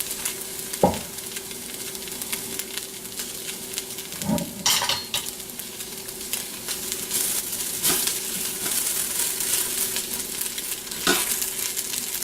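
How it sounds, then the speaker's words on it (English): Hash browns browning in grease inside an Instant Pot, a steady close sizzle with occasional scraping stirs and light utensil clinks against the pot, no voices. "So you're browning these now, right?"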